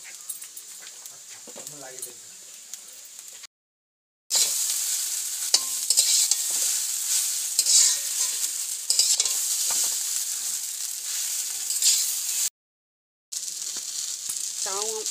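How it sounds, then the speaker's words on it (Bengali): Chow mein noodles with tomatoes being stir-fried in a pan, a loud close sizzle with scraping and tossing strokes, running steadily apart from two brief silent gaps, with a voice talking faintly at the start. "চাউটা 5 মিনিট ভাজার পর আমি টমেটোগুলো দিয়ে দিলাম।"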